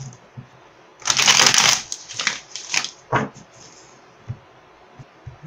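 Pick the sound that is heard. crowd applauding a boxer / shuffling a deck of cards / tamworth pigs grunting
shuffling a deck of cards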